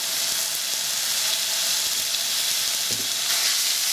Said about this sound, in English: the pan's nice and warm. In with the steak.